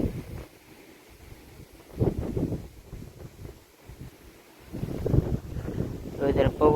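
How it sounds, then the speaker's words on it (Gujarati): Strong wind gusts in rainy weather buffet the microphone, swelling in loud rumbling bursts then easing, with brief voice fragments near the end. "અત્યારે પવન ને એવું બધું બહુ છે"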